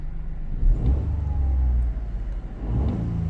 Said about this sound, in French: juste pour vous faire écouter un petit peu le bruit que la voiture fait